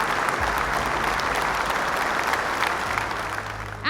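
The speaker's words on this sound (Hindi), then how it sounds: "तो जोरदार तालियों से इनका स्वागत कीजिए।" Loud, dense audience applause welcomes a quiz team at a national family Bible quiz, filling the whole stretch steadily with no talk over it.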